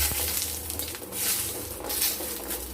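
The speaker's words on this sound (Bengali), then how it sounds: "এবার ওই তেলেই আমরা বড়ি কটা ভেজে নেব। লাল লাল করে আমরা বড়িগুলো ভেজে নেব।" Bori, small sun-dried lentil dumplings, frying in hot oil to a reddish brown, a steady dense sizzle with soft crackle that holds close and even throughout, no voices.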